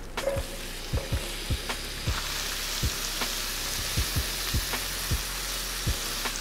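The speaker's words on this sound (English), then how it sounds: "once you get your veggies in there with that butter, let them absorb all that flavor" Vegetables cooking in butter and avocado oil in a skillet for southwest chicken eggrolls, a loud continuous sizzle close up with regular soft taps and scrapes from stirring.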